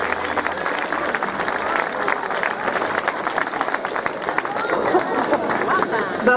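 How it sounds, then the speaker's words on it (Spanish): At a fashion show of 1970s party outfits, the audience gives sharp, uneven applause that rises and falls over several seconds, with crowd chatter and murmuring voices mixed in. "Un fuerte aplauso para Paula Hernández Barreto."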